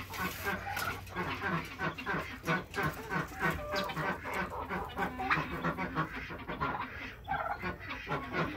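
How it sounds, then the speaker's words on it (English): Young chickens and a miniature rooster cluck and squawk continuously at close range on a morning outdoors, a busy overlapping chorus of calls with some honking fowl mixed in. "This is my miniature rooster."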